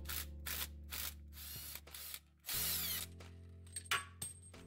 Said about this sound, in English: for this I'll be using a heavy-duty impact drill along with an 18mm socket and a universal puller to remove the pulley